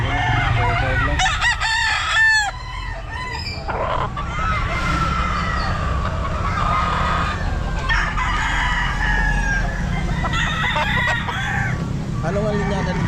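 A young rooster (stag) crows loudly and repeatedly at a busy pet market, with other fowl clucking and voices chattering throughout.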